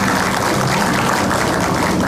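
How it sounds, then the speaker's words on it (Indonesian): A studio audience at an Indonesian TV talk show claps in a loud, continuous, even burst of applause lasting about two seconds. "tepuk tangan dulu kalau gitu"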